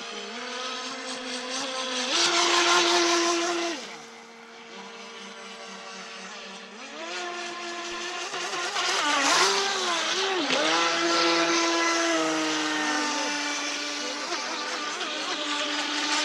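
A small high-pitched motor of a Traxxas radio-controlled boat whines steadily, rising and falling in pitch as it speeds up and slows, with occasional voices in the background.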